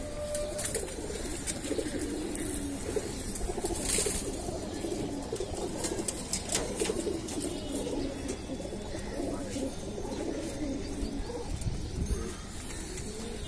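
Black-necked pigeon cooing steadily in a loft, low repeated coos amid a busy background of other pigeons, continuous and moderately loud throughout.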